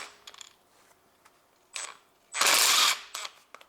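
A wrench loosens tight bolts on the camshaft cover of a Honda Civic 1.8 engine, giving scattered metallic clicks and ticks, then one loud half-second ratcheting burst followed by a few softer clacks, close up.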